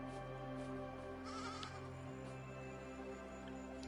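Sheep bleating in the video game AER: Memories of Old, a few soft bleats over a steady droning game soundscape with ambient tones, no talk.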